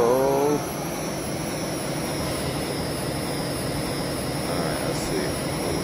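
A Harrier jet engine throttles up in the video game Eagle One: Harrier Attack, giving a loud, sustained broadband roar with a high whine above it. A brief voice-like tone opens the sound.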